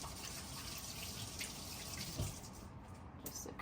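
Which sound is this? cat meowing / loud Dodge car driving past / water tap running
water tap running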